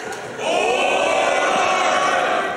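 Loud, sustained crowd cheering and roaring at a live charity speedrun event during a Super Mario Bros. 3 race, swelling up after a brief quieter start and holding steady to the end.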